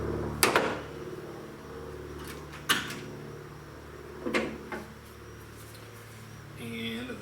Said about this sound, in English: first step was we're going to pop the hood